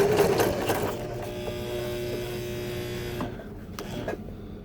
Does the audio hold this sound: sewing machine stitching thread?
yes